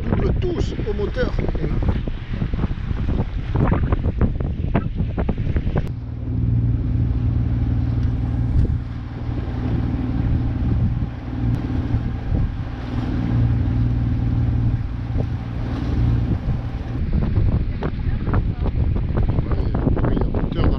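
A sailing boat's engine in its central hull drones steadily as it overtakes under motor, under heavy wind buffeting on the microphone, with voices talking over it.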